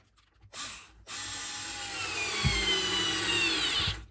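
Parkside PSSA 4 B2 cordless screwdriver whirs up after a brief start, then drives a screw into wood in one sustained close motor whine with a ratcheting clutch edge, stopping abruptly at the end.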